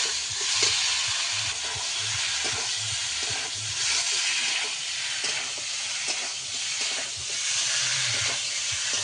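Pointed gourd tossed into oil with potatoes and spices already fried down, sizzling and hissing loudly and up close while it is stirred, with scraping strokes repeating through a continuous fry.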